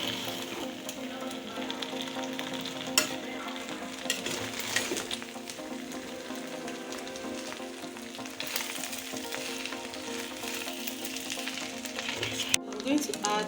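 Vegetables fry gently over low heat in a pan for fried rice, a continuous crackling sizzle with occasional clinks, while a person talks over it.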